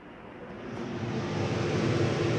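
An air conditioner in a Keystone Bullet Premier 30RI travel trailer gives off a soft, steady broadband whoosh of fan air that swells slightly and then holds.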